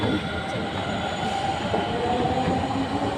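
A Delhi Metro Pink Line train arrives at the station with a loud, steady rumble of wheels and carriages, a continuous dense roar lasting throughout without pauses.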